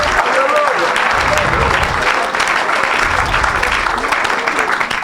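An audience at a healing service applauds loudly and continuously, with dense clapping and crowd noise throughout.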